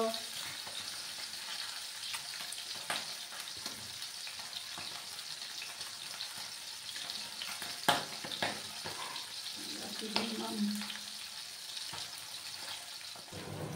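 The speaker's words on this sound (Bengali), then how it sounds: "ওই সাইডটা ভাজা হয়ে যাওয়ার পর আমি মাছগুলোকে তুলে নেব।" Pabda fish sizzle in hot oil in a pan, a soft, constant frying hiss with occasional clinks and stirring sounds. The sound is heard close and fairly quiet.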